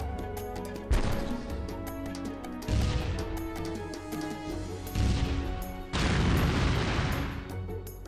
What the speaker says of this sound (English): So, we want the artillery to destroy everything in here.